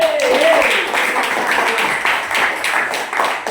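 Classmates clap in a classroom during an Islamic religious education lesson, a dense, steady patter of many hands continuing throughout with a brief voice at the start.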